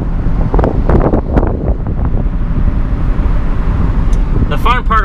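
Heavy wind buffets the microphone steadily during a ride on a New Holland 256 hay rake, loud throughout, with a brief high squeaky chirping near the end.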